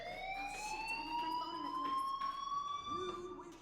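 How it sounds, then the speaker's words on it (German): A fire alarm in the game Life is Strange Remastered sounds as a sustained, slowly rising electronic tone, steady and prominent for the full stretch, with faint talk beneath it. "Hey, do you hear that fire alarm?"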